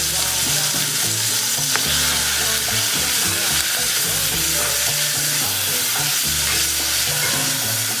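Garlic sizzles steadily in hot oil in a pan while being stirred, with continuous frying crackle and scraping throughout, no talking.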